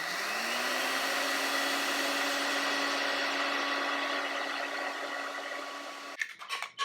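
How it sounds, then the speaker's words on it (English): A blender grinds oatmeal into flour, with a loud, steady motor whine running for about six seconds before cutting off into a few short, uneven bursts near the end. "I'm using a blender, and just pulse it until it's a fine flour"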